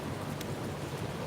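Steady rain hisses continuously close by, a dense even wash of drops with no voices.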